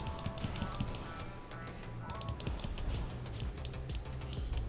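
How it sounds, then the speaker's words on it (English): A computer mouse clicks rapidly and repeatedly during play of Diablo 2 Lord of Destruction, a faint, dense run of sharp ticks with a steady heater hum beneath and no clear talking. "And for the loud mouse clicking too."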